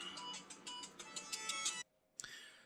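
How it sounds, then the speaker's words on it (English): A mobile phone ringtone plays faintly in a quiet room, a rhythmic repeating chime that stops abruptly and then briefly resumes. "Oh, and that's my phone."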